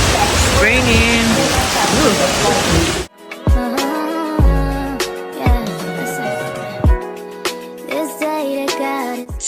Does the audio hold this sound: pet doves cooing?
no